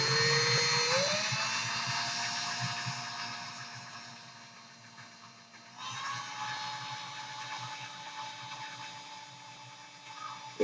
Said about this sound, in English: my battery ran out on my drill